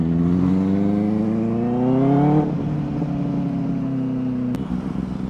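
A Benelli 600i motorcycle fitted with a loud dual SC exhaust revs up close, its pitch climbing to a throaty peak before dropping back to a steady rumbling idle.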